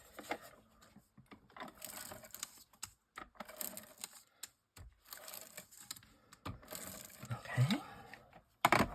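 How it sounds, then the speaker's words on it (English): A tape runner lays adhesive onto card, making quiet, close, intermittent clicks and scratchy rolling bursts with short pauses between strokes. "I'm going to use"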